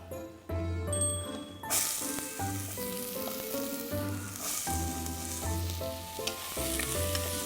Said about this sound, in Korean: 이렇게 마늘 볶아주시고요. 여기에 손질해 놓은 양파 넣을게요